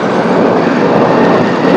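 A train rolls past on a railway track, giving a loud, steady rumbling roar that fills the whole short stretch without any break and with no voices.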